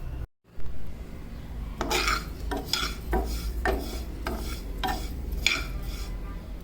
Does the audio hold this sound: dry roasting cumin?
yes